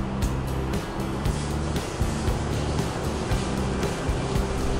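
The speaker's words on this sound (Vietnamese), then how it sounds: "Chúng ta bật tốc độ cao này, tốc độ 2." An Asanzo A-6000 air cooler (40-litre, 150 W) runs at its second fan speed, giving a steady, even whoosh of moving air with a low motor hum underneath, continuous and without breaks.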